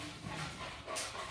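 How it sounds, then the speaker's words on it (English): A dog gives a short muffled bark or yelp somewhere nearby, a single brief sound over a steady room background. "Stupid dog put me off."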